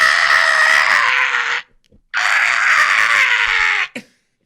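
A person's voice imitates a screeching whale in two long, harsh, loud wailing screeches separated by a brief pause, with a short breathy trailing sound at the end.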